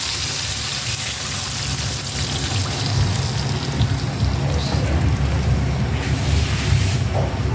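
Water is poured into a pan of simmering catfish and tomato adobo, giving a steady, close hiss and splash with no talk over it.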